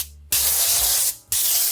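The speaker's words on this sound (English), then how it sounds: "I'm gonna take this spray oil and I'm gonna give it a quick cover" Two short bursts of hissing spray from a cooking oil can, coating a grill grate while chicken wings are cooked, each about a second long and close up.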